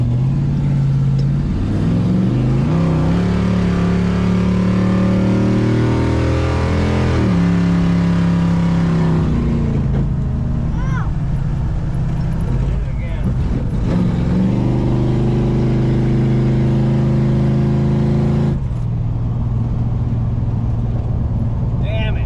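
An abandoned 1968 Plymouth Satellite makes a drag strip pass at Duct Tape Drags, its engine roaring loud and close and climbing in pitch through several gear shifts, with a drop into a lower, steadier drone near the end.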